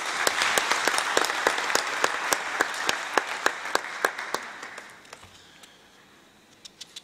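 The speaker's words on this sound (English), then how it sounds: "Please give them a round of applause." A closing-ceremony audience at the GSSD Expo 2013 breaks into steady applause, dense clapping that fades out after about five seconds, leaving a few scattered claps.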